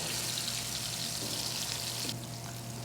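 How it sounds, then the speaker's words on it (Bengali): Small dengue fish and carp frying in hot oil, a dense, steady close-up sizzle that continues without pause and eases slightly toward the end. "এই যে ভাজতেছি"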